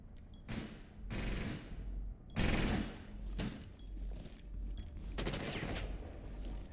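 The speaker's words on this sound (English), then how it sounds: "Shots from behind." Gunfire in an esports shooter match, with several distinct bursts of rapid shots spaced out over a few seconds, punchy and fairly close, set against low game ambience.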